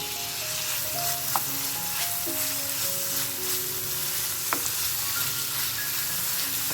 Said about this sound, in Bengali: এই কাঁচা গন্ধটা চলে যাওয়া পর্যন্ত আমি একটুখানি সময় নাড়িয়ে নেবো